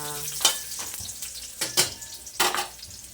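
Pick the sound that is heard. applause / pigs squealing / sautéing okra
sautéing okra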